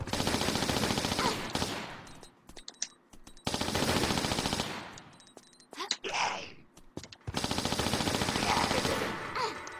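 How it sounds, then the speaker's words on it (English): Rapid bursts of Uzi fire from a Tomb Raider custom level, with long loud rattling volleys broken by short pauses and scattered single shots, each burst close and sharp. "But I'm using the Uzis just because I can."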